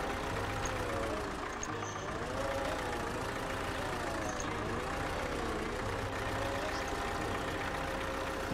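Truck engine idling and revving in the Spin Tires off-road game with a Liebherr 900 mod, a steady mid-pitched drone running throughout with slow wavering tone, close and constant, with faint talk in the background.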